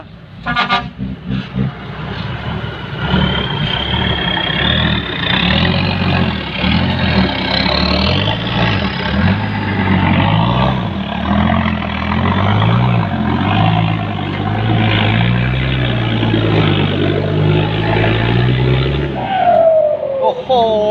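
A turbocharged car revving hard during a launch, a loud, close engine roar whose pitch climbs and falls in long sweeps with a howling turbo tone, with voices audible over it.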